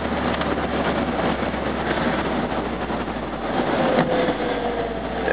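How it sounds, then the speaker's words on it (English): MGB engine pulling under load up a steep hill in a residential area, a steady muffled drone with road and wind rumble, fairly even in loudness from inside the car. "we'll see what happens with a little harder acceleration and with a heavier load on the motor"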